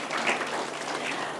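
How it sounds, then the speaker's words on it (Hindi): Applause from the audience at the India Impact Awards ceremony as a runner-up is honoured: a brief, full burst of many hands clapping, close and even, with no voices over it. "उनके लिए भी जोरदार तालियां।"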